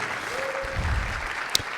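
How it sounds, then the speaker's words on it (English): Brief applause from a warm live crowd at an interview event with film director Jeymes Samuel, a steady wash of clapping with a low thump and a sharp click near the end. "give yourselves a round of applause"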